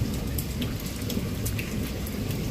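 Heavy rain falls steadily during a night-time thunderstorm, with a dense wash of drops and low thunder rumbling beneath, loud and continuous with no voices.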